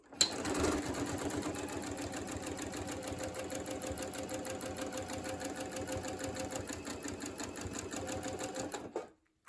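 A sewing machine stitches quilt pieces together with a 1/4-inch seam, a fast, even mechanical chatter that runs steadily for about nine seconds before stopping.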